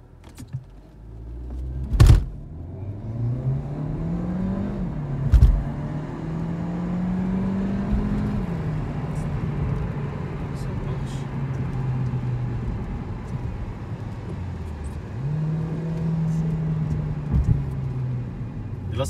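A 2018 Audi A3 hybrid with 204 hp accelerating hard, its engine tone rising and falling through gear changes as a steady whirring drone inside the cabin, with a couple of sharp clicks and no talk.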